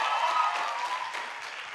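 An audience at an award recognition event claps warmly, giving a brief, dense burst of applause that fades slightly toward the end.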